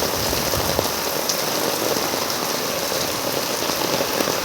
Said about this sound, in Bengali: প্রচুর বৃষ্টি হচ্ছে বন্ধুরা